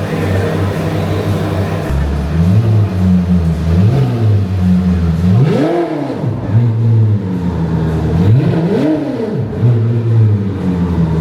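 A powerful supercar engine rumbles at idle, then revs hard twice in rising and falling surges, loud and close.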